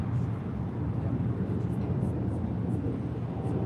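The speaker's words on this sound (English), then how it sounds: "Got that Air China 777-300ER rolling down 24 left there on the north side." An Air China Boeing 777-300ER rolling down the runway for takeoff: a steady, distant low jet roar that fills the background without clear peaks, with faint radio chatter over it.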